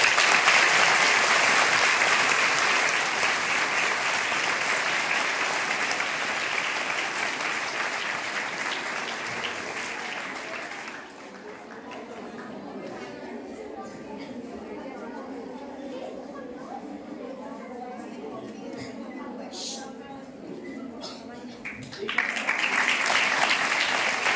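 Applause from an audience at a girls' school celebration, loud and dense for about ten seconds, then dropping to quieter murmuring chatter before clapping swells again near the end.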